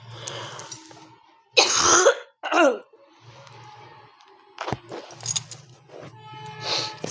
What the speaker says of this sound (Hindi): थोड़ा सा खांसी आ रहा है